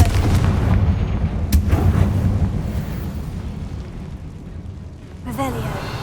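Confringo blasting spell in the Hogwarts Legacy game going off as a deep, rumbling explosion with a sharp crack, its boom rolling on under steady low noise while brief speech-like sounds drift in near the end.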